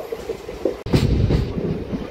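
An MMTS local train running, with a steady low rumble of wheels and carriage noise and a louder surge after a brief dropout partway through, close and continuous.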